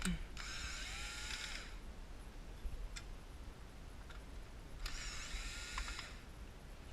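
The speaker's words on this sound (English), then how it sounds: "And remove the 3 screws." Electric screwdriver removing screws from a Konica Minolta Bizhub 601/751 copier, two short whirring bursts a few seconds apart with faint ticks between, close and fairly quiet.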